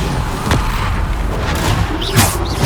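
Bombarda blast spell cast in Hogwarts Legacy on PS5, producing a few loud booming impacts amid dense game action, with a sharp hit near the start and another burst toward the end.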